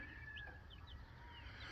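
Several faint, short, high chirps come from six newly hatched baby chicks, including Americana and Marin, kept in a brooder under a heat lamp, heard over a low background hum.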